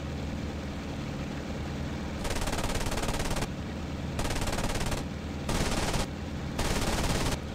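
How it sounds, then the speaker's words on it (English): Anti-aircraft gunfire in the IL-2 Sturmovik flight game, a loud, sustained rapid-fire rattle that keeps returning in long bursts over a steady engine drone, with no talking. "that AA needs to be silenced while it's shooting at somebody else"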